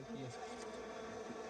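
Dense, close buzzing of many bees around a hive in the Amazon rainforest, a continuous droning hum with slight pitch wavers, steady throughout the short stretch and free of talk.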